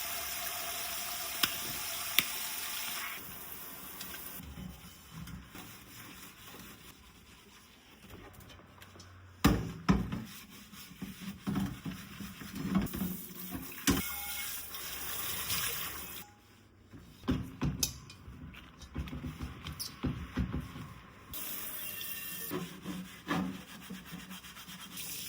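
A thrifted cast iron Dutch oven is scrubbed with water at close range, giving bursts of rough rubbing and scraping with brief pauses, occasional knocks and a faint trickle.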